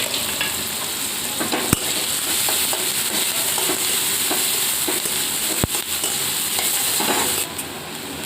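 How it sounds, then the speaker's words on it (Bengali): Onion fries in a pan for a spicy Maggi noodle dish, making a constant close sizzle with a few sharp clicks of a utensil stirring and tapping against the pan. "প্রথমে আমি পেঁয়াজটা দিয়ে ভাজবো"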